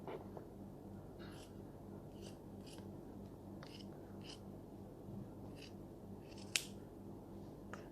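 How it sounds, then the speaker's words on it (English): Scissors snipping through a sock while making a whale sock doll, a series of quick, crisp cuts over a steady low background hum, close and fairly quiet. "Now, first you need to cut the socks."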